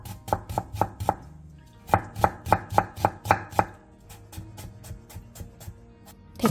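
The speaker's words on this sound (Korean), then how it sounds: "양파 2분의 1개와 당근 7장을 채 썰어주세요." Knife julienning half an onion and carrot slices on a cutting board, sharp rhythmic chopping strokes in two quick bursts of about five chops each, then lighter scattered taps, close and clear with no talking.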